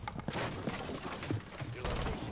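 Rifle fire in the video game Rainbow Six Siege, rapid bursts of gunshots up close, with game noise and a voice talking over them.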